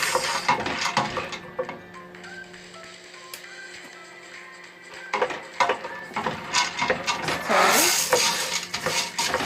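A spoon clinks and scrapes around inside a metal pot of macaroni in hot water, with a faint hum underneath and a burst of clattering near the end.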